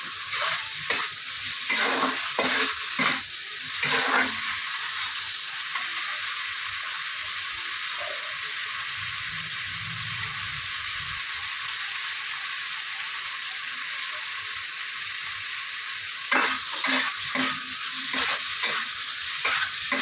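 Spice paste for doi katla sizzles in hot oil while a spatula stirs it, giving bursts of scraping strokes at the start and end around a steady frying hiss, close and fairly loud, with no voices.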